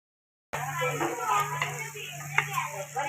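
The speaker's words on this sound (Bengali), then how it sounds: "এবার আমি চিংড়িগুলো সব দিয়ে দেব। দিয়ে আমি ভালো করে মশলার সঙ্গে নেড়ে নেব।" Prawns stirred into a cooked spice paste in a pan, with steady sizzling and frying, scraping of a spoon and faint clinks of the pan under a constant background hum.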